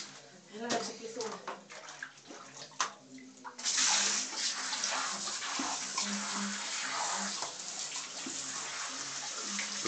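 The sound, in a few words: running water rinsing in bath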